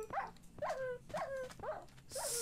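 A dog in the Minecraft video game gives five evenly spaced whimpering yelps, each a short rising-and-falling whine, close and clear with no talk over them.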